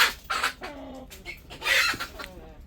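Native country hens cluck inside a cage on a farm near Chennai: several close, irregular bursts of clucking and squawking with short pauses between, with no voices.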